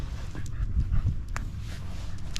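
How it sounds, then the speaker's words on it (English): Three dogs pant and whimper close by, with quick breathy rhythms and low rustling movement throughout, no talking. "Wrangling 3 dogs at once."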